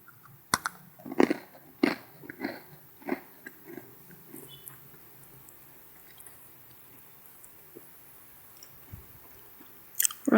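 Crunchy mini roti ketawa cookies being bitten and chewed close to the mic, a cluster of sharp crisp crunches early on, then quieter sporadic chewing and a couple of final crunches.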